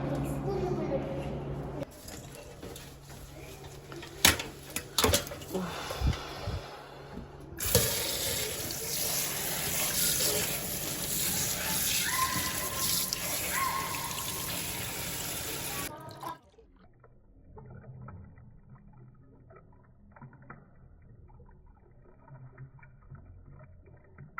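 Water runs and splashes steadily for several seconds as people talk nearby, then stops, leaving quieter background sounds.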